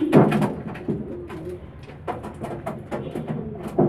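Homing pigeon squabs coo repeatedly in soft, close, throaty bursts, with a faint knock or two in between.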